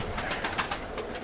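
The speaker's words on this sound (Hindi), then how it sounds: "अंबाले वाली कबूतरी है ये" An Ambala-type pigeon coos in a brief burst of soft, rolling calls, close by and fairly loud over a broad noisy background.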